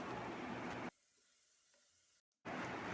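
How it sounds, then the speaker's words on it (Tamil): Chopped onions and a sprig of curry leaves sautéing in hot oil in a pan for a roadside-style tiffin kurma, a bright crackling sizzle that drops away abruptly, a quiet pause, then the sizzle returning. "அதையும் சேர்த்து நல்லா கொஞ்சம் வெங்காயத்தை வதக்கி எடுத்துக்கலாம்"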